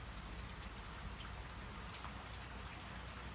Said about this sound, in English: let the calming rain sounds wash over you for the perfect bedtime